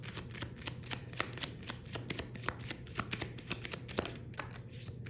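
Tarot cards being shuffled in a dense run of papery riffles and flicks, steady and close for several seconds with sharper snaps scattered throughout and no voice.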